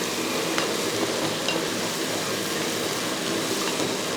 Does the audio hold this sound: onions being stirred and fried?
yes